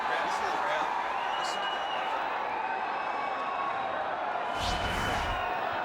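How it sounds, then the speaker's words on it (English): A packed cricket stadium crowd at a PSL match between Islamabad United and Peshawar Zalmi roars steadily after a run out. The broad, sustained noise rises briefly near the end, with voices mixed into it. "Listen to the crowd."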